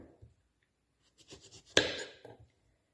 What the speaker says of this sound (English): And then I'd like you to chop the ends off.